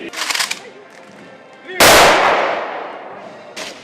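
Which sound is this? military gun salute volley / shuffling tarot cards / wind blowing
military gun salute volley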